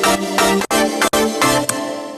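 Two layered trap synth sounds played together in Ableton Live form a dense, loud, sustained tone with two brief sharp dropouts and a fresh attack near the end.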